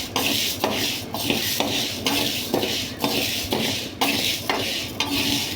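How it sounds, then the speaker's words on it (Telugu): Urad dal is stirred as it dry-fries in a pan, a spatula scraping and clattering against the metal in regular strokes about once a second, close and fairly loud, with no speech. "ముందుగా రెండు గ్లాసులు మినపప్పు వేసుకోవాలండి ఇవి బాగా ఫ్రై చేసుకోవాలండి"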